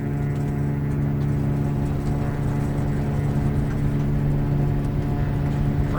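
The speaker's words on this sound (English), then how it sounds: "Very nice engine sounds." A Cessna U206G Stationair piston engine in the X-Plane 12 flight simulator runs at full takeoff power, a steady loud droning hum with a strong low tone that stays constant throughout.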